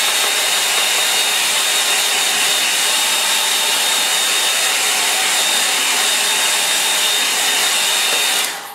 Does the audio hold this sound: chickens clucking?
no